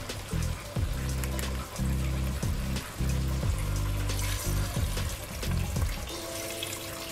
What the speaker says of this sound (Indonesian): Kita akan tambahkan dengan santan cair.